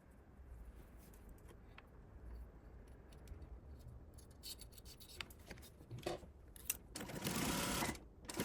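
A home sewing machine stitches binding onto a baby bodysuit, a steady close whirring run of needle strokes that speeds up near the end, quiet and alone.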